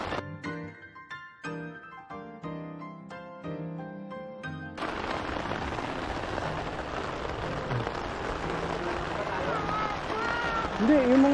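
Steady rain pours down at a campsite at a seaside resort, a dense continuous hiss of drops on surfaces that takes over after a few seconds of music and keeps on loud and even to the end.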